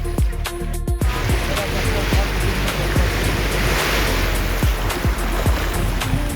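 Ocean surf washes onto a calm beach on Lifou in the Loyalty Islands, a loud, continuous close roar of waves with heavy wind buffeting the microphone.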